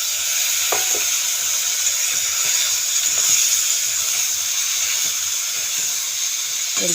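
Red and green chillies, ridge gourd and potato hit a frying pan of oil and browned onions, producing a strong, steady sizzle broken by occasional light utensil clinks.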